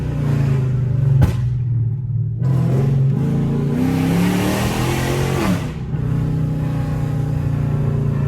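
A loud, deep Chrysler 300 5.7 HEMI V8 engine with a stage 2 flame and burble tune revs up several times, its rumbling pitch rising and falling between steady idling stretches, with no talking.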